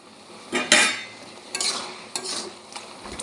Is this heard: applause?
no